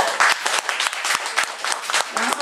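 An audience at a public talk breaks into applause, a burst of dense, close clapping with a voice heard under it.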